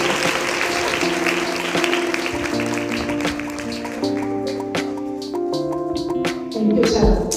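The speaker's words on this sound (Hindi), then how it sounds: "आप सबकी भरपूर तालियों में मिसेस एलिस डेविड।" Audience applause welcomes a speaker at an International Women's Day programme, a broad wash of clapping that thins out partway through while sustained musical tones and some voices carry on beneath and after it.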